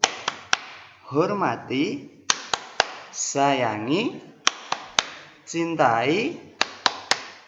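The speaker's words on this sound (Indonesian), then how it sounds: "Namanya tepuk guru." Rhythmic 'tepuk guru' clapping in a grade 2 classroom: sharp, close claps land in quick patterned groups between chanted phrases, with a teacher's voice speaking and chanting throughout.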